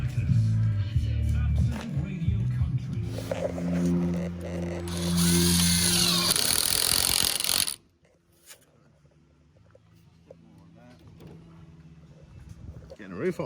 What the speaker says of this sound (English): a nice big chunky drill bit for these big trees.